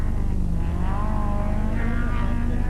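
A rally car at the 1987 Ypres Rally, such as a Ford Sierra or BMW M3, roars loud and close, its engine note rising and falling through gear changes under steady road noise.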